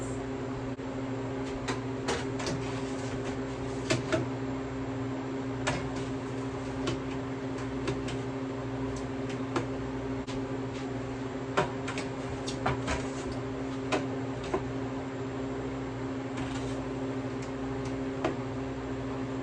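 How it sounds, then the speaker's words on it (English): Sparse light clicks and clinks of metal trays sliding into place in a freeze dryer, heard over a steady machine hum with no talking. "now I'm gonna start adding in my trays"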